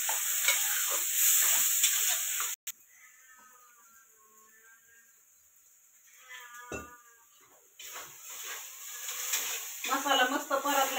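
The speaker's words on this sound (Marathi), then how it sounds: "मस्त असं मसाला परतून द्यायचा" Ground masala paste sizzles and fries in oil in a pan as it is stirred, with loud frying at the start and end around a quieter stretch of soft stirring scrapes and faint bubbling.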